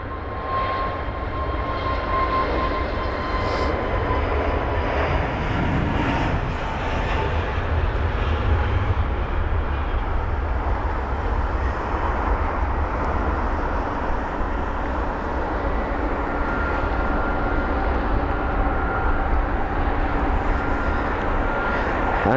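British Airways Airbus A321neo, flight BA1448 to Edinburgh, leaves London Heathrow as a continuous mid-distance jet roar, even and sustained throughout, with a low rumble underneath.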